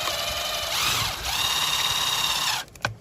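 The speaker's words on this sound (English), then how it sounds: "keeping everything tight as you drill that" A power drill drives a screw into fiberglass pool coping, a loud steady whine that rises in pitch briefly, then stops with a short clunk at the end.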